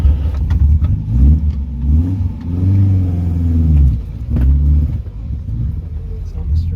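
Toyota KE70 car engine running close up, rumbling and revving in rising and falling pulls, with people talking in between.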